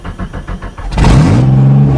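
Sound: farm vehicle engine cold start and revving

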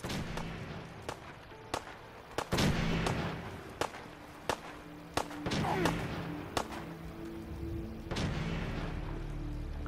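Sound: gunfire in the video game Fallout 4

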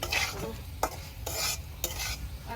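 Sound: river prawns frying in a pan

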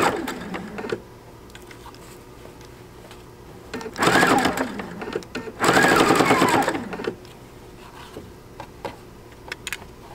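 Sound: PFAFF Creative Icon sewing machine sewing with quilt binder foot

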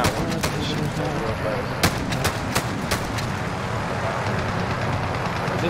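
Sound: rapid gunfire from weapon in Modern Warfare video game

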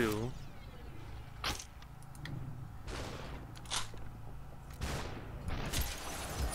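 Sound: gunshots in SUPERHOT video game

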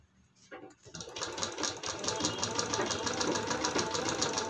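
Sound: sewing machine stitching piping on a blouse

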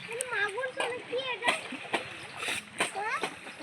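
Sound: water splashing while washing hands

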